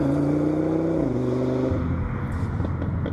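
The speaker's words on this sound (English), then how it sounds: "that monumental 5-cylinder engine" An Audi RS3's five-cylinder engine revs steadily and then drops in pitch, a close, continuous and loud engine drone with no talking over it.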